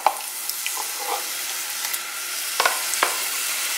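Turkey gravy stirred in a pan, a soft steady sizzle with faint scraping and a few light clicks of the utensil against the pan, all close by.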